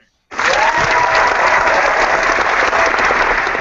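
An applause sound effect on a podcast stream starts abruptly after a brief silence, then holds as a loud, dense, steady burst of crowd clapping to the end.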